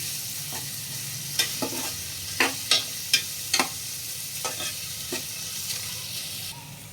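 Onion sautéing in a pan over a low flame, a soft steady sizzle with irregular close clinks and scrapes from stirring, about ten strokes spread through the stretch.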